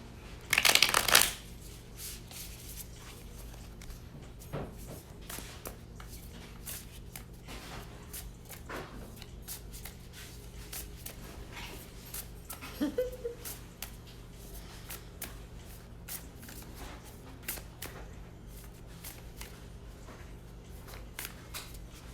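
Tarot cards shuffled by hand, a close, steady papery riffling and sliding that runs continuously with a louder burst at the start and no talk.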